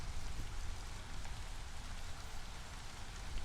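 Drizzle falls in the video game Against the Storm as a soft, even hiss of rain that holds at a low level without pause, and no one talks over it.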